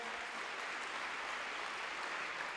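An audience applauding during a motivational talk. Steady, even clapping from a crowd, sounding moderately distant, with no pauses.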